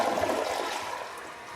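A toilet flushes close by with a rushing gush of water that slowly fades in a short burst.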